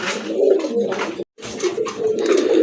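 A pair of colourful pigeons coo loud and close in a continuous throaty run, broken by a brief silence midway, with no talk over them.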